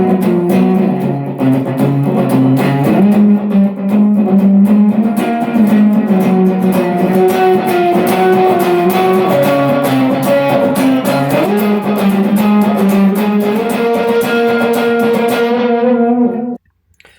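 Electric guitar riff from a song, played with an added octave and heavy effects, a steady run of bright repeating notes that stays loud and upfront for about sixteen seconds before it cuts off.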